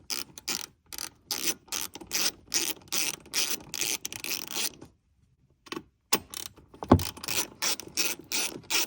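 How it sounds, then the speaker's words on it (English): Rapid ratchet clicking while removing T30 bolts on a Porsche 981 Cayman, close and crisp in repeated bursts, with a brief pause midway and a metallic clink before the ratcheting resumes. "We're now going to work to remove those so we can remove the center brace."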